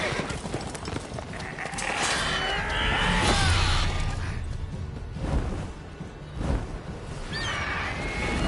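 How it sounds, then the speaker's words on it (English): War horse in the video game The Witcher 3: Wild Hunt, loud whinnies and neighs mixed with clip-clop hooves and whooshing action sounds. "War horse."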